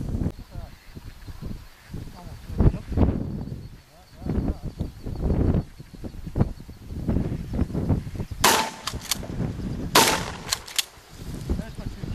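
Two sharp gunshots during a duck hunt for green-headed mallards, a few seconds apart, loud and close, with people talking before them in the outdoor setting.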